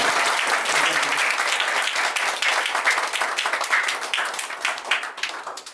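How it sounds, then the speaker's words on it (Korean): Church congregation gives a missionary loud applause at a Sunday thanksgiving service, with dense, sustained clapping that gradually thins toward the end. "우리 선교사님 일어나셔서 인사할 때 크게 박수 주세요."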